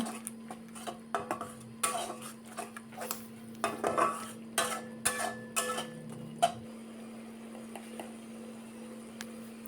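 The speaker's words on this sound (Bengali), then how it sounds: "সব কিছু এবার নেড়ে ছেড়ে ভালোভাবে মিশিয়ে নেব।" A spoon stirs and mixes a spiced chickpea mixture in a pan, giving quiet scraping and clinking taps at an irregular pace that thin out toward the end.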